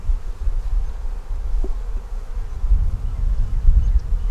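Honeybees buzz in a dense, continuous low drone from an open hive being inspected, close by and steady, swelling slightly toward the end.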